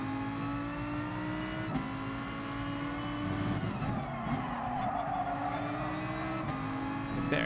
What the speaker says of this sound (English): Driving an NSX.